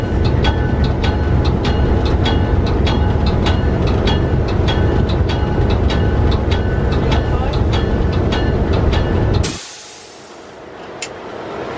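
A freight locomotive, CN 6789, heard from the cab, rumbles steadily with rhythmic clacking for most of the clip, then the loud rolling noise drops away abruptly into a quieter, airy hiss.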